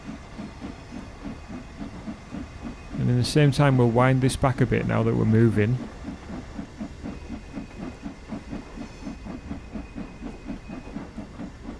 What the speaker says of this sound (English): look at the steam blowing off and everything